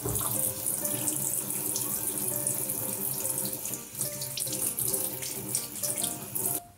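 Sink drain parts rinsed under a running bathroom tap while a washbasin is cleaned: a continuous, fairly loud splash and hiss of flowing water with little change, briefly dipping once near the end.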